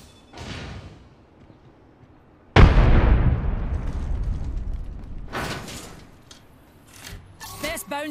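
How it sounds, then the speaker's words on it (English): Gunfire in the Apex Legends video game, with one sudden loud blast that decays into a long rumble and later a scatter of sharper shots and clicks. "someone's shooting"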